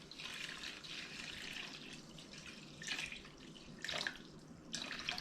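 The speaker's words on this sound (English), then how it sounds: "Just going to pour some salt water in." Salt water brine trickles and splashes as it is poured into a container of beach worms, a faint, steady liquid pour with a few louder gushes and no talking.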